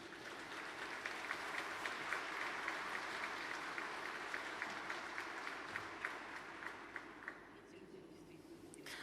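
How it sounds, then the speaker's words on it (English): An audience at the St. Petersburg International Economic Forum applauds, sustained clapping from many hands with distinct individual claps, gradually thinning out toward the end, heard at a moderate distance. "Nobody asked them to clap and to applaud."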